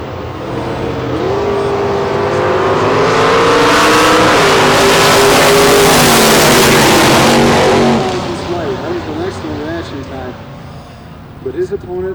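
Nitro Top Fuel and Funny Car drag racers launch off the starting line at a drag strip, a loud sustained engine roar that builds for several seconds and then drops away as they pull off, with crowd noise and voices underneath.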